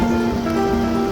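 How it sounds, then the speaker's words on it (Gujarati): Heavy rain falling steadily, a continuous close wash of drops with no break, while a faint tonal hum runs underneath. "વરસાદ બહુ મસ્ત છે"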